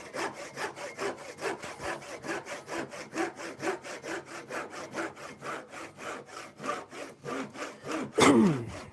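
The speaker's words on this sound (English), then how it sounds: "This saw needs sharpening." Hand saw rasping back and forth through wood on a workshop bench, steady rapid strokes close up and loud, ending in a sharper crack as the cut finishes; the saw blade is dull and needs sharpening.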